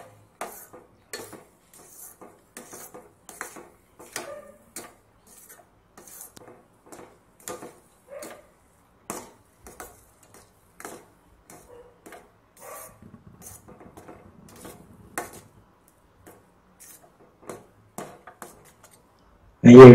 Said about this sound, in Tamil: இந்த நெய்யை விட்டு கலரணும்.